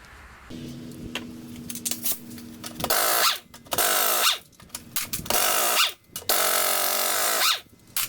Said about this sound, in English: now that the compressor's decided to shut off